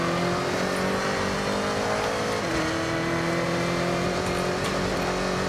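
Chevy Camaro engine in the racing game Forza Horizon, roaring steadily under load with a dense, loud, continuous exhaust drone and slight pitch shifts as it revs, with no speech.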